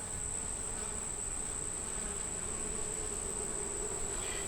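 Dense, steady buzzing of many honey bees around a hive, close and continuous, with a constant high whine over a low hum.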